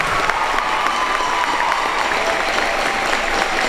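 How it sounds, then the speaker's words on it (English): Students at a junior high assembly applaud in a steady, dense wash of clapping that holds evenly throughout, with faint crowd murmur beneath. "I would like a big round of applause for Ms."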